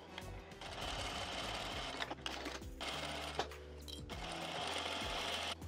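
A sewing machine stitches a fabric seam, its motor whirring in a steady close hum, stopping briefly twice before running on, fairly quiet throughout.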